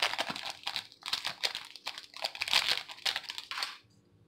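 Plastic sticker packaging is pulled open close up, giving a run of loud, busy crinkling and rustling bursts that stops abruptly.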